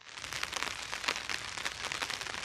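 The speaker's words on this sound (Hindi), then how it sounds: "मैं अन्नत को लेने के लिए तेज़ बारिश में" Heavy rain hisses steadily onto surfaces in a village, a soft, even patter with no voices.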